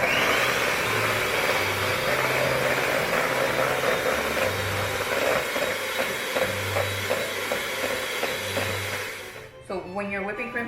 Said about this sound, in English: You're gonna get your heavy whipping cream. And you're gonna mix it.